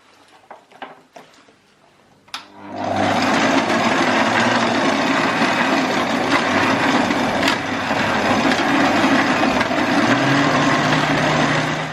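An electric mixer whisks Cafe de Paris sauce as lemon juice goes in, a steady loud motor whir running continuously after a few faint clicks at the start.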